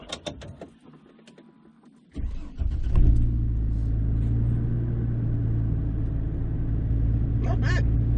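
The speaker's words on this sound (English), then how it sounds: "let's take a listen to what the brand new FlowMaster muffler we put on the Envoy, what that sounds like in a cold start on the interior" A 2004 GMC Envoy 4.2L with a FlowMaster Flow FX muffler cold-starts, heard from inside the cabin: a few clicks and a brief crank, then the engine catches with a surge and settles into a steady, deep idle rumble.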